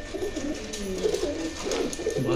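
Pigeons coo close by in low, throaty, rolling calls that overlap continuously.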